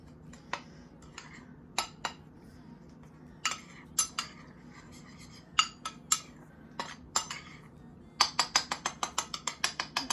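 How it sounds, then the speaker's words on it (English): Ingredients for keto pumpkin spice donuts are mixed in a bowl, giving a run of sharp utensil clinks and scrapes against the bowl, scattered at first and then a quick rhythmic burst of strokes near the end, close and fairly quiet. "And then you just want to mix it up really good."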